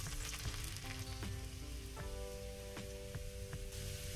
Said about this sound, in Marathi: लसूण टाकूया